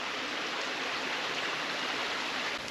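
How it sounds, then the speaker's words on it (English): Creek water pours steadily down into a sinkhole on a wooded trail, a constant broadband rushing wash with no pauses, close and fairly loud with no voices. "Water going down the sinkhole."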